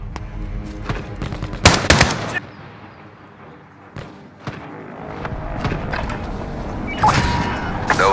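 Airstrike strafing run in Call of Duty: Modern Warfare: bursts of heavy automatic fire and booming impacts, a loud cluster early, then scattered thuds and a renewed rumbling barrage, with game radio chatter faintly mixed in.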